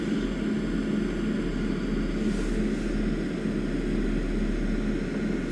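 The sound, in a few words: airliner taking off in a flight simulator video game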